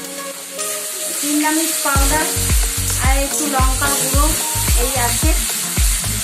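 Chili and turmeric spice masala sizzles steadily in a hot pan while a spoon scrapes and taps rhythmically through it, with a brief voice over the frying.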